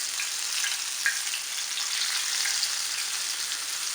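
Unniyappam batter fries in the oil-filled hollows of an appam pan on medium flame, a steady bright hissing sizzle, close and even, with a couple of faint pops and no voices.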